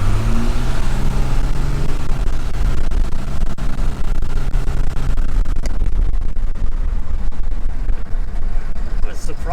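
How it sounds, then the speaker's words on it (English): Cummins diesel swapped into a 1978 Dodge first-generation crew cab dually, roaring at full power with a loud, steady, gritty rumble heard from inside the cab. "let's be quiet for a second and enjoy the sound of the diesel at full song"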